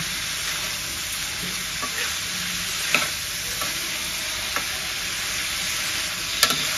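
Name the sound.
mutton boti frying in pan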